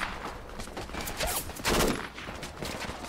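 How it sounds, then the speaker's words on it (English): Gunfire in the military shooter video game Project Reality rattles as a loose string of fairly close shots and bursts over a busy background, with no talk. "Holy shit, I'm taking fire from somewhere."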